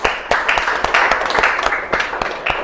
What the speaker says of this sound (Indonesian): kasih aplaus dulu untuk kesalahan nih